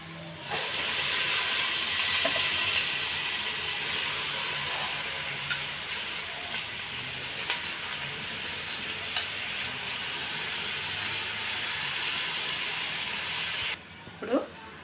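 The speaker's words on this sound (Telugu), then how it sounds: "తాలింపులో రైస్ వేసుకున్నాం." Soaked rice fries in hot tempering oil with cashews, giving a steady, loud sizzling hiss that runs continuously with faint stirring clicks, then cuts off near the end.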